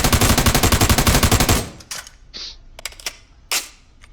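An M4 rifle fires a rapid burst of about fifteen loud, close, evenly spaced shots lasting about a second and a half, followed by a few metallic clicks and handling noises.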